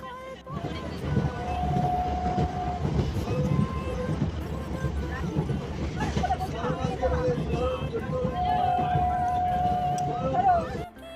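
Rumbling local train noise with rattling and a couple of long tonal squeals at a station platform, crowd babble and voices talking throughout.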